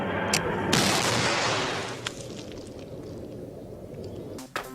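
Bombs exploding around the TARDIS in Doctor Who, a loud blast bursting out and rumbling away into a long booming decay, with further sharp cracks, no voices.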